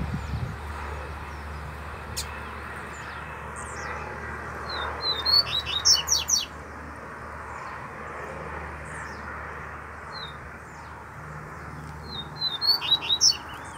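Double-collared seedeaters sing outdoors in a wooded area, with two short bursts of rapid, high, warbling notes separated by a pause. A low, steady drone of a distant aircraft runs underneath throughout.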